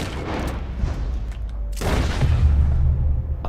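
A single sharp gunshot in the Western video game Red Dead Redemption 2, set in a saloon, cracks midway through and leaves a heavy low rumble ringing afterward over steady background ambience.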